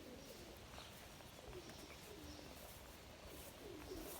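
Pigeons or doves coo faintly in a garden, soft repeated low calls under a steady outdoor hiss.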